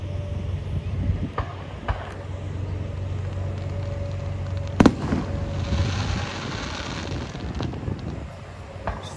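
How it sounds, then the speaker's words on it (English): Fourth of July fireworks bursting in the distance: scattered sharp bangs, one standing out louder near the middle, over a constant low rumble and outdoor wind noise. "These fireworks are awesome."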